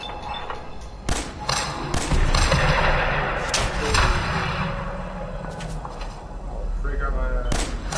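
Gunfire in Fallout 4, sharp loud shots at irregular intervals mixed with thuds and rumbling explosions, with a voice talking over the action.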